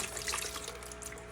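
Water pours from a tap or container to rinse a canister lid, a steady close splashing stream filling the whole short moment without talk.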